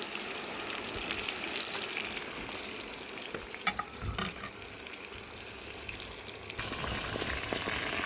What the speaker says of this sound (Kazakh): Пиязды жақсылап қызарғанға дейін қуырып, содан ары қарай ет саламыз сосын.